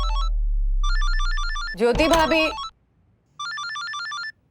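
A mobile phone rings with a repeating electronic chime in bursts, loud and close, broken once by a woman calling out over it before the tone resumes.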